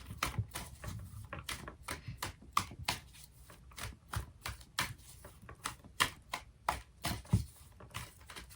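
Tarot cards being shuffled and pulled, a steady run of crisp, close snapping riffles and slaps repeating about every half second, fairly quiet with no talking.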